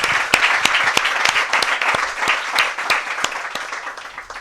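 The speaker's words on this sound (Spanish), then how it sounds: "Así que un aplauso enorme a Meli, a Aurora y a Rosa Cobo." An audience at a literary talk and awards event breaks into steady, loud applause, with dense, continuous clapping that fills the room for several seconds.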